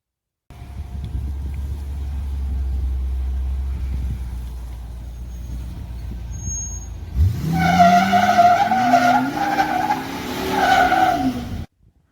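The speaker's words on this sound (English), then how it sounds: "she's going to videotape me doing a burnout somewhere" 1999 Ford Super Duty truck doing a burnout: an engine drone builds, then a loud rising rev and sustained tire squeal take over for several seconds before cutting off, with no talking.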